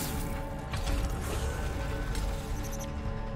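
A door-opening mechanism in The Callisto Protocol video game grinds and ratchets with creaking metallic clanks, running steadily and fairly loud under low machine hum for the whole stretch.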